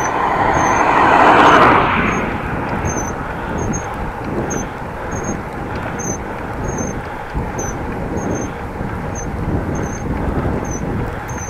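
A car approaches and passes a cyclist riding a rural Dutch road, a swelling engine and tyre rush that peaks early and then recedes under steady wind and road noise from the bike.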